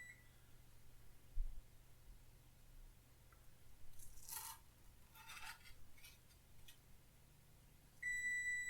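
A kitchen stove timer beeps in a home kitchen while burgers and potatoes cook, a faint electronic tone coming in near the end over quiet background clatter and scraping.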